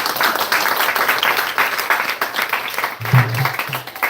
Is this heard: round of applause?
yes